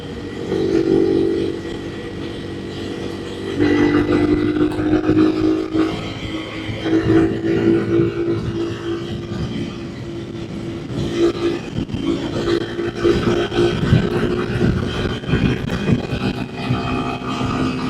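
A Yamaha TW200 motorcycle cruises along a road at about 65 mph, its engine droning steadily with shifting pitch under heavy wind rush, loud and close throughout with no talking.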